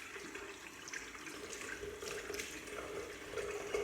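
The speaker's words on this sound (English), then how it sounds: "Then we do rinse our hands with water." Tap water runs steadily into a sink as hands are rinsed, a continuous close splashing hiss with no talking.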